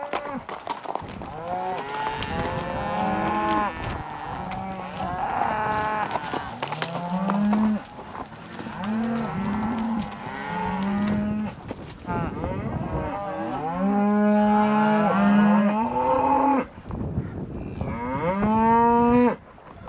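Cattle moo repeatedly on a ranch road by a pasture gate, several cows lowing in overlapping calls of varied pitch and length, some near and some farther off, with occasional hoof and rustling sounds between.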